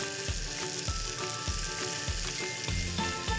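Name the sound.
vegan French toast cooking in a pan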